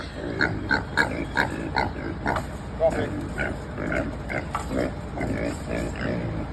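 A backyard pig on a small homestead grunts steadily in repeated, close, rhythmic bursts, with people talking nearby.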